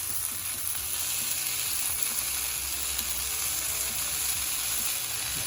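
Paneer tikka sizzling in a pan after being turned, giving a steady, dense hiss of frying that stays close and even throughout with no talking.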